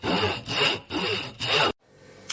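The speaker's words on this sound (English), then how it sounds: "So I'm going to start off by grating the soap." A bar of Dr. Bronner's soap is grated by hand in four quick, rasping strokes, close and loud, ending in a short pause and a faint scrape.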